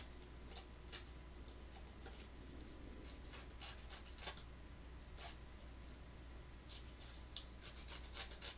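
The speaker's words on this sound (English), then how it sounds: "I'm going to take my little edge rougher, and I do back and forth" A small paper edge rougher is scraped back and forth along greeting card edges, giving a soft, steady rasp broken by quick faint ticking strokes, close by and with no talking.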